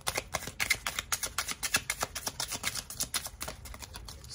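Tarot cards shuffled steadily in a quiet room, a rapid run of crisp riffling flicks and soft slaps close to the listener, with no talking.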